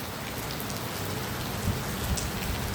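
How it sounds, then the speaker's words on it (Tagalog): Heavy rain pours down at a roadside gas station, a steady, dense wash of drops hammering surfaces, with a couple of low rumbles rising briefly near the end. "Minto kami dito kasi lakas ulan,"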